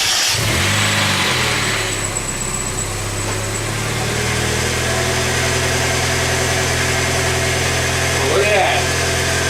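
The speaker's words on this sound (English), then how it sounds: "I'm just very quickly going to jump in the car and start it" A 1990 Mazda Miata engine cranks and catches near the start, then settles into a steady, close idle that holds for the rest of the stretch, with a person talking briefly over it.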